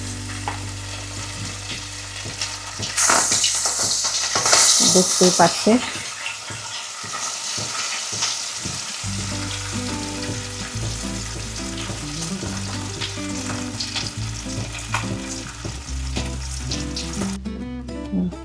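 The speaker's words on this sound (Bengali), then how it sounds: "কড়াইতে দিয়ে ভাজা হচ্ছে।" Vetki fish pieces frying in mustard oil in a wok, a bright sizzle that flares loudly when the fish goes in, then a continuous crackle under a voice explaining.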